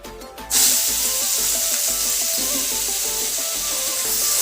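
Boiled bottle gourd hits hot oil seasoned with dried chili and five-spice, bursting into a loud, close, steady sizzle after a brief quieter start, with stirring in the pan.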